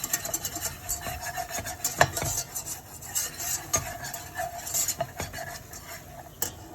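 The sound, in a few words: stirring flour and liquid for mac and cheese sauce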